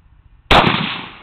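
A single sharp rifle shot from a Robinson Arms XCR fired from the prone position cracks loudly at close range, then a short echoing decay trails off.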